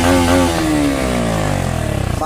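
A motorcycle fitted with a bass-heavy aftermarket exhaust revs loudly and close by, its deep engine note rising and falling in pitch across the clip with a rough, throbbing low end.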